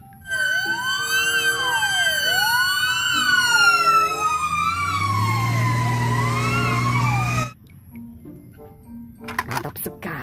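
A toy fire truck wails with a loud electronic siren, its rising and falling sweeps running steadily for several seconds before cutting off abruptly, followed by faint clatter.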